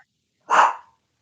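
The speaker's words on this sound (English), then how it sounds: "And that's the dog barking again." A single loud, close dog bark rings out on its own, lasting about half a second, with silence before and after.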